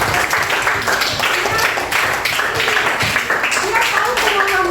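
A classroom of students claps together, a lively burst of close, irregular hand claps mixed with voices talking and chattering throughout.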